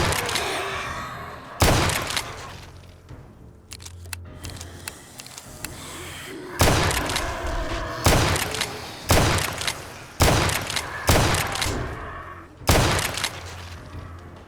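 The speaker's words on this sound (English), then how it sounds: "The shotgun is actually working pretty well for this because I have time to reload it" Shotgun blasts in the modded zombie survival game 7 Days to Die, roughly seven loud booming shots spaced a second or two apart with reload gaps, heard alone without talk.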